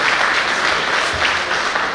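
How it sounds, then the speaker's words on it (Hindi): A crowd at a grand get-together event in Chandrapur applauds to welcome a guest onto the stage, producing a thick, continuous roar of clapping that stays loud and even without any talk. "मंच पर जोरदार तालियों से उनका स्वागत किया जाए"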